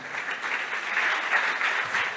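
Applause from an audience at a school debate competition for a team that has just finished speaking, a steady dense wash of clapping held for a couple of seconds with no pauses.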